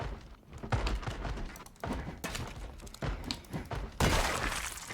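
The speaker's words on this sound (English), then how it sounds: "Let's remove the broken glass so I don't do anything stupid." Window glass breaks in a zombie survival video game. Several loud, harsh crashing and shattering bursts come in quick succession, each followed by scattering debris.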